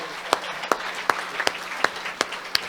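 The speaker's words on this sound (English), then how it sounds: "I want to give this guy a big round of applause" An audience at a Presidents Day meet and greet claps in sparse, evenly spaced sharp claps, fairly close, with no talking.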